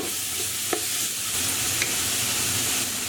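Lamb seasoned with salt and black pepper browns in a hot pan for Persian khoresht-e gheimeh, giving a steady close sizzle with a couple of faint stirring clicks and no voices.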